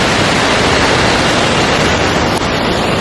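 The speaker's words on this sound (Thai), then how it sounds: "นี่นะน้ำตกโคตรสวย" Khun Phra Wo waterfall in Mae Ramat, Tak, Thailand, a loud, dense, unbroken roar of falling water close to the microphone, with no voices over it.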